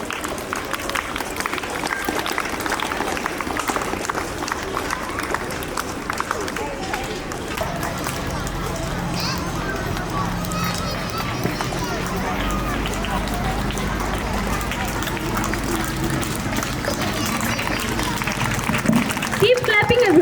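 Audience at a school investiture ceremony clapping continuously, a busy patter of many hands that runs on for the whole stretch, with voices speaking over it at times.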